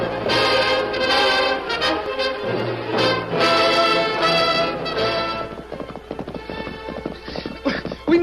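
A radio drama sound effect of horses galloping, with steady rapid hoof clip-clop throughout, neighing and voices layered over the first half, then the hoofbeats continue loud and clear alone.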